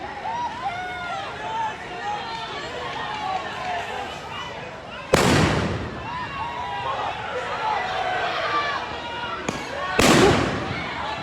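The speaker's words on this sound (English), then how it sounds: "Another couple flashbangs going off." Two loud flashbang stun grenades go off sharply at a nighttime street protest in Iowa City, each a sudden blast with a brief echo, amid crowd chatter, shouting and a nearby reporter's voice.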